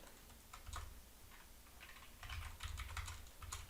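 A command being typed on a computer keyboard in AutoCAD, heard as faint, quick clusters of key taps with short pauses between bursts.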